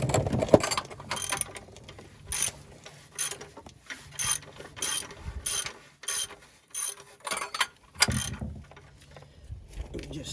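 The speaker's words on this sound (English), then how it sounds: "we'll use the ratchet" Ratchet tightening a bolt on a car: a dozen or so crisp clicking bursts in a steady back-and-forth rhythm, close and moderately loud, with faint shop background noise between strokes.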